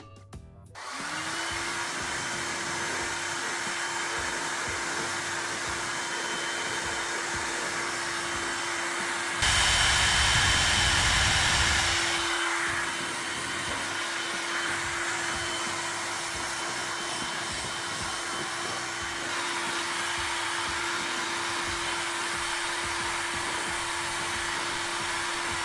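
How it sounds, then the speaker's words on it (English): A Feekaa ionic hair dryer blow drying hair, a loud steady close whirring roar with a constant whine running throughout, briefly surging louder midway as airflow shifts. "I'm going to wash my daughter's hair and then I'm going to come and blow dry it."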